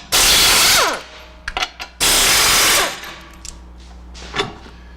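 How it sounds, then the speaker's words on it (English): A power tool, apparently an impact gun, removes two 21mm nuts holding a car's lower ball joint. Two loud, close bursts of about a second each are separated by a few short rattles and clanks. "Remove the two 21mm nuts holding the lower ball joint in place."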